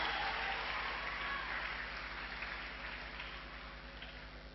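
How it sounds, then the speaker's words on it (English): A congregation at a church youth session gives a sustained round of applause, a dense wash of clapping that stays steady and fades slightly toward the end. "So can you give a big round of applause for what God has done in William's life?"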